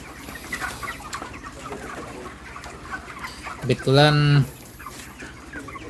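Broiler chickens cluck softly in a barn during harvest, with background chatter, then a loud, harmonic squawk or crow bursts out for a moment before fading back.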